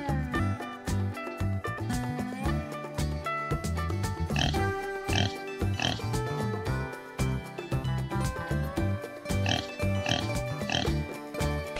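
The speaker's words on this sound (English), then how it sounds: "Pig." A pig oinks in short repeated grunts over steady, busy background music, the calls fairly clear amid the dense accompaniment.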